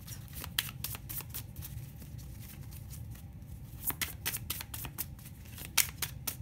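A deck of cards is shuffled by hand in a quiet room, with a long run of close, crisp riffling and ruffling bursts and sharp slaps, no voices over it.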